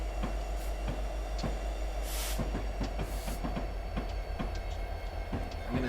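A train in a railroad video game backs along the track at night, steady low rumble with repeated rail clicks and occasional brief hissing bursts, fairly quiet and continuous.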